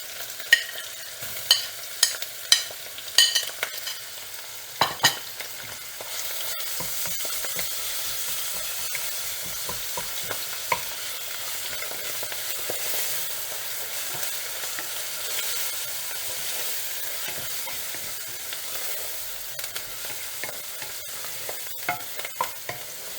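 Ginger sizzles and fries in a pan for keema samosa filling, with a spoon clacking and scraping now and then over a steady, soft hiss of hot oil.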